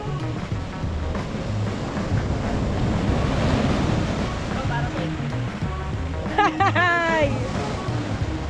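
Strong sea waves at Dingalan crash and surge continuously with wind buffeting the microphone, and a voice calls out briefly near the end.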